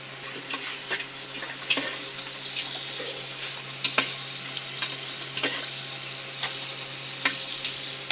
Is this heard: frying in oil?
yes